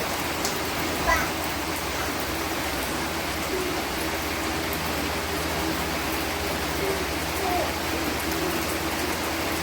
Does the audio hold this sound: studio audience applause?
no